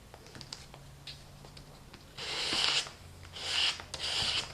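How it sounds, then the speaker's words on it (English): Paint being scraped across a journal page, two longer raspy scraping strokes following softer, scattered scratches and taps, close and fairly quiet. "just scraping it across my page, and it leaves quite a thin layer of paint"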